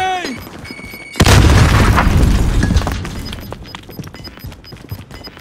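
A grenade blows up in a Call of Duty Resurgence battle royale match, a sudden loud boom with a long rumbling tail, following a brief whistling sound, with faint game sounds and occasional talk behind.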